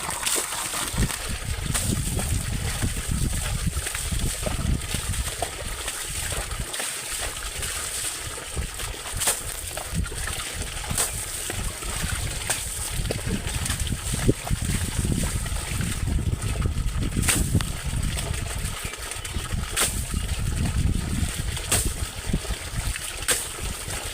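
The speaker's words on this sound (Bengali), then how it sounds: "সাবমার্সিবলটা চালিয়ে নিয়েছি ওই চলে এসছে জল" Water gushes steadily from a running submersible pump, a continuous close splashing and trickling rush that holds for the whole stretch, probably while a bike is being washed.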